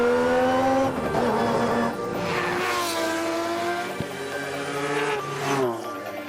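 A car with a three-rotor peripheral-ported rotary engine revs hard and loud, its rising and falling harmonic howl sweeping up and down across several bursts, with a brief tire-squeal quality and a sharp click partway through.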